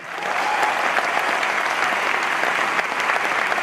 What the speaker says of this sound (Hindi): उसके लिए जोरदार ताली बजा सकते हैं।